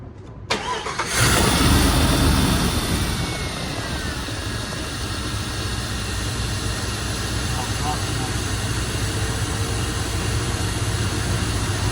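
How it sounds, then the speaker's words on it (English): A car engine with multi-port fuel injection, set up for a lab test, cranks briefly, then catches and settles into a loud, steady idle up close. People speak briefly just before the start. "And we'll have Sam start it up"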